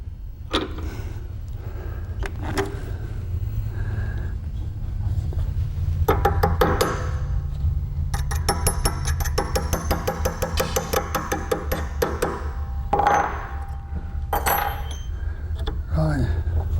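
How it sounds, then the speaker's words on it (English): Metallic knocks and taps as the kicker pin is driven out of a Southgate ejector on a British side-by-side shotgun, a run of close, sharp strikes with small metal rattles. "knock out the pin that holds the kickers"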